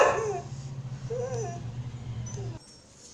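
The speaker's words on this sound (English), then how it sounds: "sorry for my dog" A pet dog whimpers and gives short yips, the sound somewhat near and fairly quiet, over a steady low background hum, with the noise cutting out near the end.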